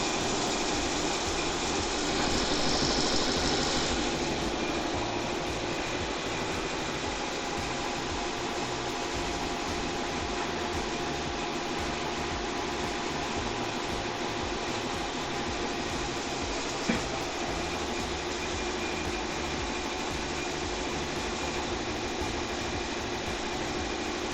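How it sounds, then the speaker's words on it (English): A home embroidery machine with a 4x4 hoop runs a zigzag tack-down stitch over fabric, producing a continuous, fairly loud mechanical hum and rapid needle chatter with no break. "now it should do the zigzag to tack the fabric down underneath"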